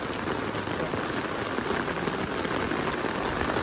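Steady rain falls in a dense, even, broadband hiss, unbroken for the whole stretch, with a faint low rumble underneath and no talking.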